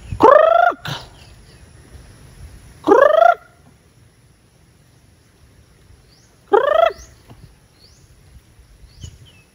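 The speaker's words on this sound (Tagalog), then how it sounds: "Ayan na po yung ating mga manok, oh." Three short, loud chicken calls, each a rising squawk, spaced a few seconds apart with quiet background between them.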